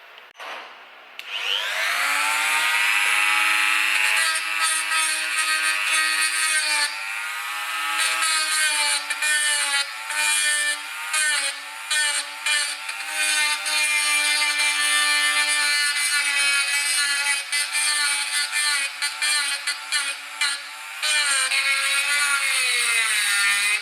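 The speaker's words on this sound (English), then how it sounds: "we'll get a Dremel and we'll clean that up now" High-pitched whine of a Dremel rotary tool spinning up and grinding a welded steel bracket, close and loud, steady with frequent brief dips as the tool bites and lifts off the metal.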